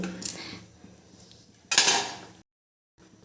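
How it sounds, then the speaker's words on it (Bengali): A metal pressure cooker lid is opened in a home kitchen after making roti, giving a few close metallic clinks and scrapes followed by a short, louder rattle, then a brief silence. "এবার আমি প্রেশার কুকারের ঢাকনাটা খুলে নিচ্ছি"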